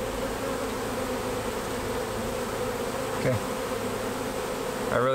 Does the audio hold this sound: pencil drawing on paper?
no